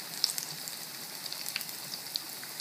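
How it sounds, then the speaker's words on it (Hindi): Potato cutlets coated in bread crumbs sizzle gently in hot oil, a faint steady crackle with scattered small pops and no one talking. "देखिए कितने अच्छे से ब्रेड क्रम्स अगर हम लगाते हैं तो कितना अच्छा से हमारी फ्राई होती है।"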